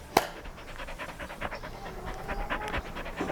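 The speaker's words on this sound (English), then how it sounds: "It's the first time I've seen a dog that lives on the ceiling." A dog in a riverside Chinese village pants steadily in quick, rhythmic breaths, fairly close, with one sharp knock near the start and scattered faint clicks throughout.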